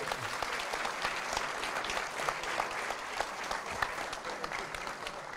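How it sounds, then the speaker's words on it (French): A live public audience at a basketball talk show in a Paris venue applauds continuously, a fairly faint but sustained patter of many hands with scattered sharper claps and a few voices. "on peut l'applaudir"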